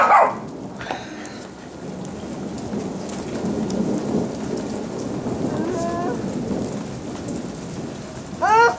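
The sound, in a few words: thunderstorm with rain and thunder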